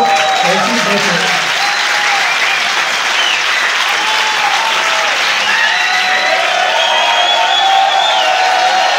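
Loud, sustained applause and cheering from a live audience at a flat-earth conference in Barcelona greeting a singer, dense clapping with whoops and crowd voices throughout.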